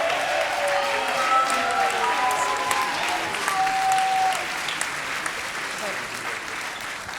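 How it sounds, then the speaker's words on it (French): An audience applauds the music team at a talent show, a steady wash of clapping with faint whistles or cheers mixed in, easing slightly toward the end. "Applaudissez-les bien fort."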